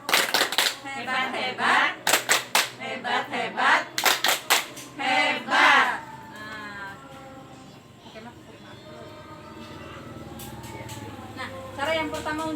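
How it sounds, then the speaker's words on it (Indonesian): A group of parents and teachers in an Indonesian parenting class performs a patterned rhythmic clapping cheer, sharp clustered claps in bursts over the first six seconds, then fading under murmuring voices and talk. "Kita tepuk hebat lagi, Bu. Tepuk hebat."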